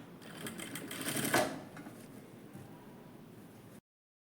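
A sewing machine stitching a Peter Pan collar at a quarter-inch seam, a rapid rhythmic whirring clatter that builds briefly, then runs on more quietly before stopping abruptly; close, without talk.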